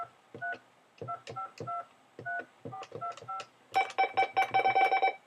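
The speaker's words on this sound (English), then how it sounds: "If I call the number, I'll do this on speakerphone here" A rapid sequence of telephone keypad tones, short beeps in irregular groups, followed by a denser burst of overlapping dial tones, heard over a speakerphone with no talking.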